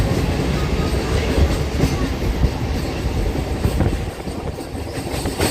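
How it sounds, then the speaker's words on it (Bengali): A passenger train pulls out of Bardhaman Junction station, heard from inside as a steady loud rumble with rhythmic wheel clatter and rail noise throughout. "তো এখন ট্রেন কিন্তু দেখতেই পাচ্ছ বর্ধমান জাংশন ছেড়ে বেরিয়ে যাচ্ছে।"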